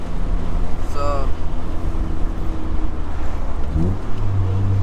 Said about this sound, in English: It's windy. The mic has the fluffy thing on it.